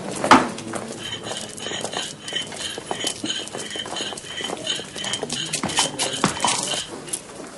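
Horse hooves clip-clop in a steady, moderately close rhythm, mixed with light clattering and a busy background of talk and movement.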